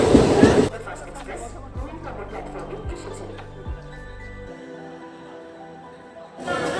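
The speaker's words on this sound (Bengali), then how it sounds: "আমাদের ট্রেন 12333 বিভূতি এক্সপ্রেস সঠিক সময়ে হাওড়া স্টেশন থেকে ছেড়ে।" Inside the 12333 Vibhuti Express passenger train running from Howrah at night, a steady low rumble and rhythmic clatter of the coach carry on under faint passenger chatter.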